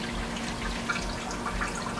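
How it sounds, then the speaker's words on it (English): Steady trickling water with soft drips as water fills a bell siphon, close and fairly quiet, running continuously with a faint hum underneath. "the water's filling the outer edge of the outside part of the bell siphon"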